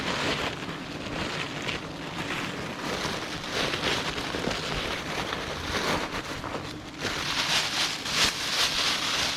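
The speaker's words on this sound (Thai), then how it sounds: "เพราะว่าฝนมาแล้วนะครับ" Steady rain falls outdoors during honey hunting in rural Thailand, a dense broadband hiss of drops on surfaces that continues through the whole stretch and grows slightly louder near the end, with no talking.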